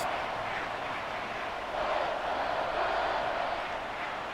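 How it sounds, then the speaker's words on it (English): Crowd noise from the American football video game Madden 24, a steady, fairly faint stadium roar that swells slightly partway through, with no talk over it. "Crowd getting in it a bit already."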